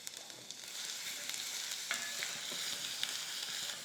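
Garlic paste and cumin sizzle in hot oil as a tempering for chole, a soft, steady crackle with occasional stirring scrapes, quiet and close, without any voices.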